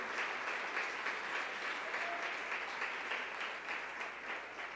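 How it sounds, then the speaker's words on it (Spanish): A church congregation gives sustained, vigorous applause, a steady wash of many clapping hands at a fairly even level from start to finish, with no speech over it. "Denle un aplauso ahí bien fuerte al Rey."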